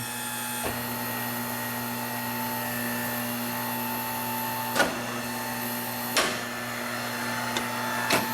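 A tire changer machine turning a wheel hums with a steady motorized whine, and a few sharp clicks and clunks break in toward the end.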